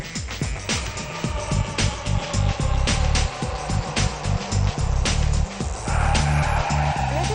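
Skoda Fabia with a 1.4 litre turbo diesel engine driving on a hot summer day in Bombay, a steady close engine drone with repeated rhythmic bumps and tyre noise, no talk.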